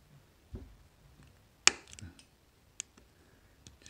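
A sharp click as a blade snaps through the leg of a surface-mount IC during desoldering, one loud crisp transient amid a few fainter ticks and small scraping noises, close up and without speech.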